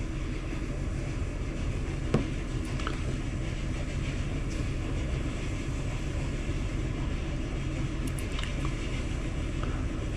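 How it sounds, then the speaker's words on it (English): Recorded railroad ambience from a train sound collection plays quietly, a continuous low rumble of rolling trains with a few faint metallic clanks scattered through it. "Got a collection of train noise CDs and harbor sounds"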